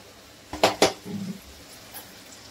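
A metal spoon stirs soy sauce and vinegar in a pan, giving two quick sharp clinks followed by a brief soft scrape, all fairly close in an otherwise quiet room.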